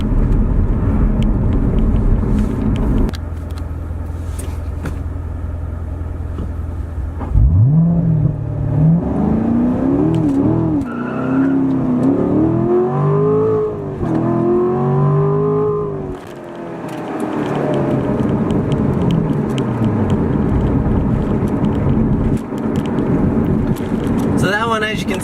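A Chevrolet C7 Corvette Grand Sport idles loudly, then launches in a 0-60 run, the engine revving up through rising pitch sweeps with gear changes, roaring close before easing off.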